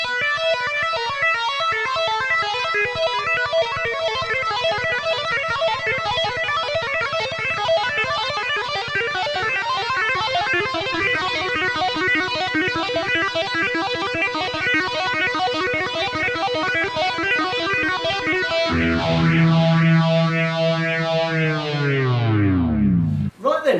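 A Yamaha Pacifica electric guitar plays sustained high-gain chords through phaser, delay and reverb, with a swirling, shimmering tone that fills the space. The notes ring on and then sweep away into a long, fading tail.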